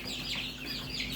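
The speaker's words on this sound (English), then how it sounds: "And we have our chicken nursery here." Chickens from a backyard chicken nursery, a mix of Rhode Island Reds and farm-store birds, cluck and chirp continuously at close range with a steady background hum, no talking.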